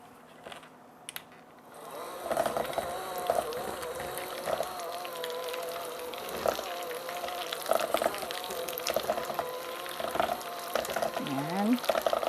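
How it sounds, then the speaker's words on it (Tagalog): Parmesan and butter being mixed for a cheese pimento spread, a continuous soft scraping and churning in a bowl with small clinks, fairly close, with a faint voice in the background. "So bago ko ihalo yung iba pa nating ingredients, medyo imimix ko lang siya ng konti."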